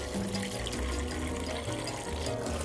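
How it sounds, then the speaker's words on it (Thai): Salt water is poured out of a container after washing ingredients in a home kitchen, a steady close splashing and gurgling flow with no voices. "ตอนนี้เราก็ล้างเสร็จแล้วเราก็จะเท น้ำเกลือออกนะคะ"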